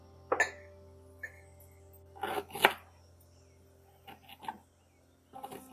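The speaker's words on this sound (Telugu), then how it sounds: "ఎగ్స్ ఉడుకుతున్నాయి, అంతలోపు మనము అల్లం ఎల్లిగడ్డ దంచేస్తాం" Ginger and garlic are pounded into a paste for a Telangana egg curry: clusters of dull, close thuds arrive in short bursts separated by pauses.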